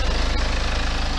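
A BMW E90 with the N47 diesel engine idles under an open hood, a steady, loud, rhythmic clatter with a fast regular pulse and broad mechanical noise, close up with no talking.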